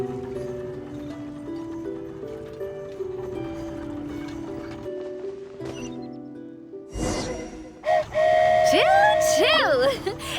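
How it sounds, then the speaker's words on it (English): The flying train in Genshin Impact departs with a rumbling run-up of tones, then a sudden whoosh and rising whistle-like chimes. Game voices may be heard over it. "Choo-choo! Aerial Express moving out."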